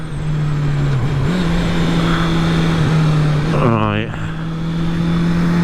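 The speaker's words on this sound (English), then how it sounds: "let's pull away from these lights while we can keep it legal. See what it's like in the first couple of gears." A 2021 Honda CB650R pulls away from traffic lights through the first couple of gears, its engine note steady and loud up close with a quick shift dip near the end, while a rider speaks briefly over it.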